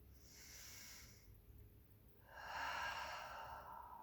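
Slow, deep abdominal breathing sounds close and quiet: a soft airy inhale followed by a longer, stronger hissing exhale, with no talking.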